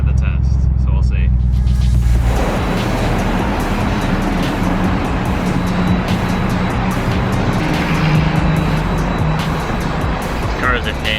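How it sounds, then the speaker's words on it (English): A Ford Galaxie with fuel trouble rolls across a town street toward a gas station, its engine rumble and road noise loud and steady throughout after a quieter start. "Can the car make it across the street in town to the gas station, turn off, put gas in it, and start back up?"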